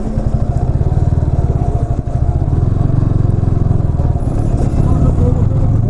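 A motorcycle engine chugs steadily and loudly on a waterlogged road near Dhapra Bazar station during the rainy season, with a rhythmic putter and faint clatter and a rider speaking over it.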